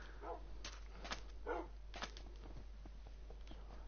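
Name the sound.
dogs barking in Minecraft, video game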